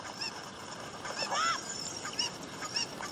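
Cucco chickens in Zelda: Ocarina of Time give a few short, thin squawking calls at low volume over a faint background hiss, with no talking.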